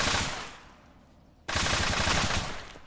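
Rapid automatic gunfire rattles in the military shooter ArmA 3, two loud dense bursts separated by a short lull, close and harsh with no talking.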